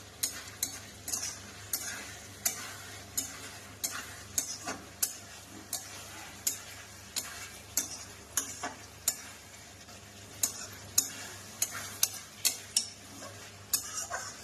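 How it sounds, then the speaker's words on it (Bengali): Chicken being sautéed and stirred in a pan, with a steady run of sharp spoon-on-pan clinks and scrapes over a soft, constant sizzle, close and fairly quiet, no talk. "এই চিকেনটা কষানো মোটামুটি হয়ে গেছে"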